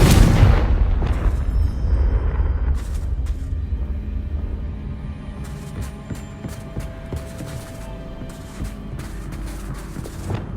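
A Confringo spell explodes in Hogwarts Legacy: a loud, rumbling blast at the start that decays into a long, noisy tail with scattered crackles and debris pops.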